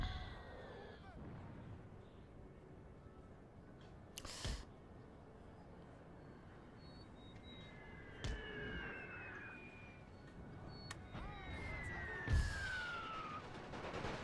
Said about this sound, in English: You can hear all the sounds of the artillery.